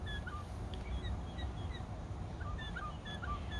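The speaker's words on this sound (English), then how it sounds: "So this one is a mockingbird." A recorded mockingbird sings a series of short, clear whistled chirps and slurred notes, some repeated in quick pairs, set against a steady low background hum and fairly faint.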